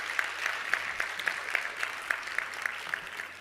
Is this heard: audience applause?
yes